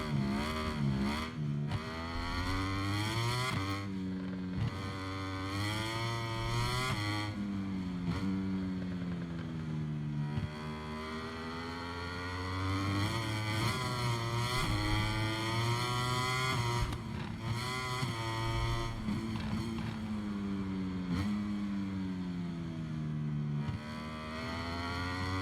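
A MotoGP 23 racing motorcycle engine revs and accelerates repeatedly, its high whining pitch climbing and dropping through gear changes and braking over a sustained, steady stretch, with no speech.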